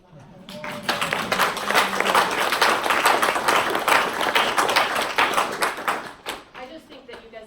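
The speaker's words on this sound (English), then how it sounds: "I actually want to start out by having you guys applaud them really quick" Audience at a school music program fundraiser meeting applauding steadily for several seconds, a dense, even wash of many hands clapping that swells quickly and then tapers off near the end.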